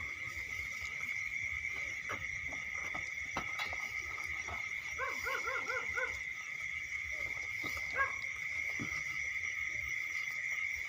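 Dogs near a house at night bark in a quick run of several yaps midway through, fairly distant and modest in level, over a constant high insect drone with a few scattered knocks.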